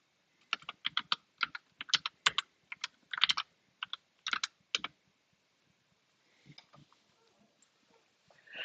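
Keys on a computer keyboard are typed close up in quick, uneven bursts of clicks, followed by a quieter stretch with only a few scattered taps.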